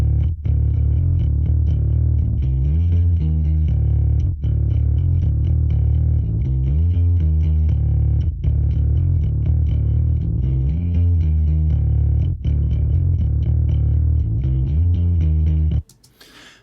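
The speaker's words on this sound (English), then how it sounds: "like always with all my basses, there is a little bit of a distortion here, more so in the chorus, but definitely in the verse" A distorted bass guitar part, gritty and sustained, plays steadily and loudly with a rhythmic pulse for about fifteen seconds before cutting off abruptly near the end.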